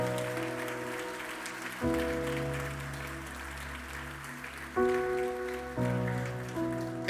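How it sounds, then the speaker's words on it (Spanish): A church congregation claps during a pastor's sermon, the dense patter running steadily beneath sustained keyboard chords that change every few seconds. "Dáselo fuerte el aplauso."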